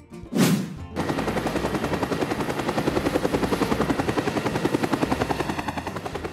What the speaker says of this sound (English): Air ambulance.